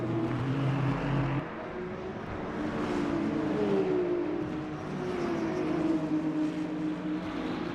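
BMW race cars battle side by side on the Sebring circuit in the Le Mans Ultimate racing game, engines droning loud and steady with overlapping, shifting whines and no pauses.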